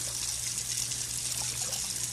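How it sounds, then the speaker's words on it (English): Starchy rice water poured off cooking rice in a kitchen, a continuous close gushing stream with a steady low hum beneath. "then you pour that rice water off"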